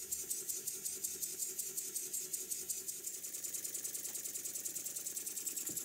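A miniature model steam engine, a half-size copy of a Stuart Double 10 with working reversing gear, runs steadily in a workshop, giving a fast, even chuffing beat that stays close and fairly quiet throughout.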